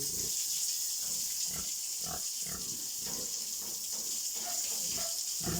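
Pigs in a pen grunt and snort in short, irregular bursts over a constant loud hiss of running water, close by.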